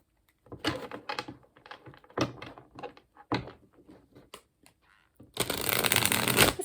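Golden Tarot cards are shuffled up close: a series of crisp riffling bursts with short gaps between them, ending in a longer, louder continuous riffle.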